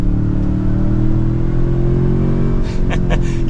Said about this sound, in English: You kind of hear the turbos, you hear a grunty sounding, honestly sounds like a V8, and you get a little bit of that electronic sound to it.